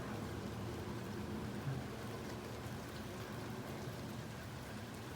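Steady rain falls during an early September storm among windmill palms and a California fan palm, a soft even hiss that stays faint and unbroken throughout.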